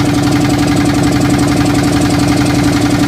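A boat engine on the Ganges River at Varanasi, India, chugs loud and close with a steady, rapid knocking rhythm throughout, and no voices are heard over it.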